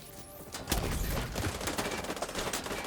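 Video game firefight with many players shooting at once, a faint, dense crackle of overlapping gunshots bursting in after a quiet start and rattling on continuously.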